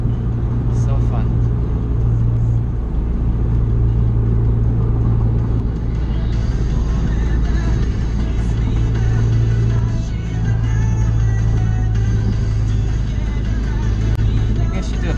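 Inside a car just fitted with an MFactory 4.928 final drive, a steady engine drone and road rumble hold at cruising speed with a low, even hum throughout, close and loud, and no voice on top.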